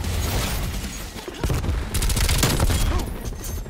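Dense, continuous gunfire from several weapons in a Call of Duty Black Ops Cold War multiplayer match, bursts overlapping and rattling loudly throughout with brief booming hits.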